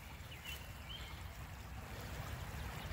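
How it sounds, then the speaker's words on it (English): Big Creek flowing in the Big Creek Reservation of the Cleveland Metroparks, a steady faint wash of moving water with soft trickling, continuous and even throughout. "But here's the creek."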